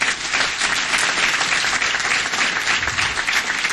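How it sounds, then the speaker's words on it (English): Audience applause for the state champion Mountain Ridge Little League team at a city council meeting, steady dense clapping that stays loud and even throughout, with no voices over it. "Give these guys a great big round of applause."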